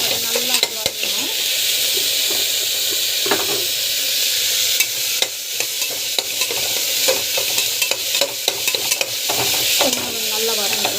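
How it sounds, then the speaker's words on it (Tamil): Chopped tomatoes sauté in a hot pan with a steady loud sizzle, broken by repeated scraping and clinking of a spoon stirring through them up close. "நல்லா வந்து வதங்கணும்"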